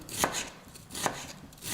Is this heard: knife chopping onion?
yes